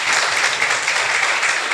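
A church audience at a Christian testimony gathering claps together in dense, steady applause, loud and close, with no voices standing out over it.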